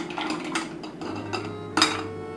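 A jar of soapnuts with a tight-fitting lid is shaken, giving a run of clattering, rattling knocks with a sharper burst near the end, close and fairly loud.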